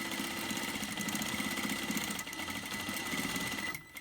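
A sewing machine stitches a fabric face mask with a nose wire, back and forth along a quarter-inch seam, running steadily and close up for nearly four seconds before stopping abruptly.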